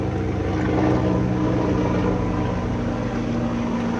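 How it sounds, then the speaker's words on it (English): An emergency response helicopter passes overhead as a steady, loud, broad rotor-and-engine drone that holds evenly for several seconds with no talking. "that's the emergency response chopper going over"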